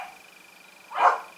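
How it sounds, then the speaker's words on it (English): A neighbor's dog gives a single short bark in the distance, faint and muffled against a quiet room with a thin steady whine. "So here we have the neighbor dog."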